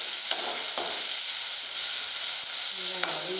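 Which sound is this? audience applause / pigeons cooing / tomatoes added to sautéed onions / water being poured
tomatoes added to sautéed onions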